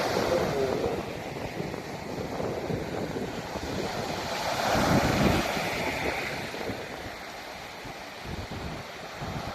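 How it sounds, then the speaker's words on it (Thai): Sea waves washing onto the coast at Bang Saphan, Prachuap Khiri Khan, under steady wind buffeting the microphone, with one louder swell of surf midway and no talk. "วันนี้คลื่นลมอากาศดีมากเลยครับ"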